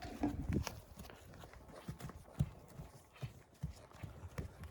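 Horse hooves clip-clopping at a walk on a Ukrainian horse farm, a series of distinct close hoofbeats at an uneven pace, with a louder cluster near the start and no talk.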